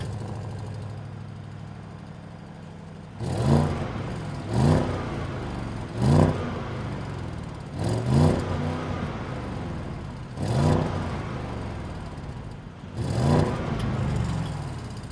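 A 2023 Audi S8 flagship sedan's engine idling, then revved six times in sharp, evenly spaced bursts that rise and fall back to a steady idle, close and loud with no talking.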